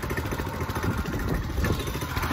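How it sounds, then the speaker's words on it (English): A go-kart engine runs loudly and close by, with a rough, steady buzzing drone and rattly pulses that hold without a break. "we are in my go-kart"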